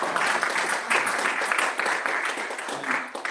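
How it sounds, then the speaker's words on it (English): Applause from an in-person audience at a campus journalism event, a dense steady patter of many hands clapping that fills the room for a few seconds, with a faint voice underneath. "Let's give it a round of applause."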